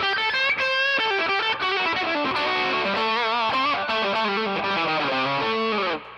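Overdriven electric guitar plays a bright, sustained lead line through an EP Booster pedal, notes bending and ringing loudly before cutting off at the end.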